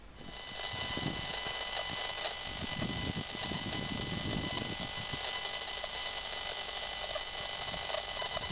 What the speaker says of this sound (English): The sound comes from the Esmog Spion. It has what I call a true sound function.